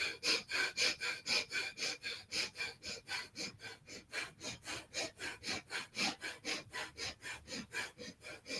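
Rapid yoga breath-of-fire breathing, heard as a long run of quick, even, forceful exhalations through the nose, close and alone at a fast steady rhythm.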